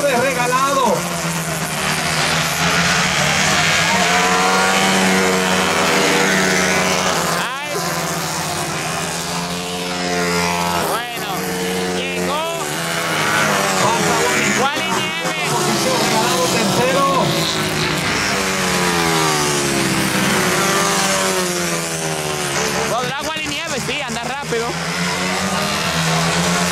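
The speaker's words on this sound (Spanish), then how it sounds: "Está fallando el motor de regalado." Race car engine misfiring during a night race at La Romana, a novice CG category event, its stuttering, rising and falling drone running continuously and loud under excited commentary.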